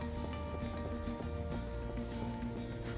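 Egg and roti frying in a hot pan give a steady, close sizzle with soft crackles and spits, running without a break and with no voices.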